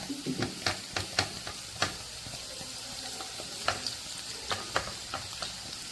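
Chopped scallions sizzle in oil in a pan over reduced heat to make scallion oil, a steady crackle with repeated sharp stirring clinks of a utensil against the pan.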